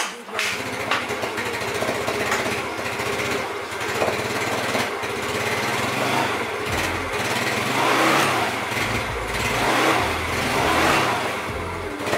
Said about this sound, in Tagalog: habang pinapaandar natin at pinapainit